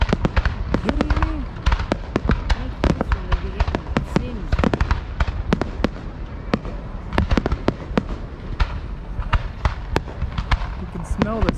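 Canada Day fireworks over Ottawa, heard from extremely close: a relentless barrage of loud booms and sharp cracks, some with whistling trails, overlapping continuously as people talk and shout nearby.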